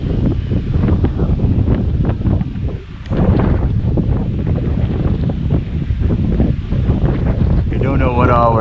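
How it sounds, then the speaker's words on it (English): Wind blows across a hiking trail on the Long Trail, buffeting the microphone in loud gusty rumbles with brief lulls, rustling throughout and steady close noise. "It's a little bit windy."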